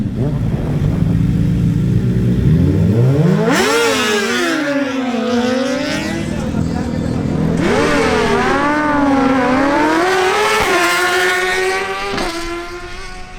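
Suzuki GSX-R1000 motorcycles drag racing head-to-head, loud high-revving engines climbing sharply through repeated gear changes, several rising sweeps with brief dips between shifts, close and continuous throughout.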